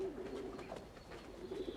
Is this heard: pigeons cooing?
yes